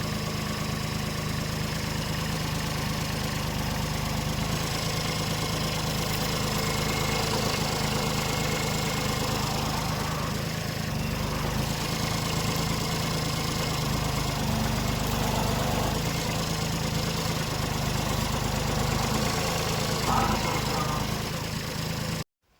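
A tractor engine runs steadily up close, its even low chugging drone holding throughout without any clear change in pitch or load.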